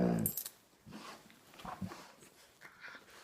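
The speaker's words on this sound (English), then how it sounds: "And the schnauzers are just biting each other." Several schnauzers play-fighting and biting each other indoors in the morning, giving a burst of close, loud scuffling at the start, then scattered snorts, soft growly huffs and paw shuffling, with a short whimpering whine near the end.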